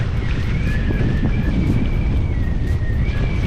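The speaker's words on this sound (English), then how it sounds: "pretty windy today" Strong wind buffeting the microphone aboard a sailing yacht in choppy coastal water, a loud continuous low rumble with a faint tonal whistle running through it and no talk.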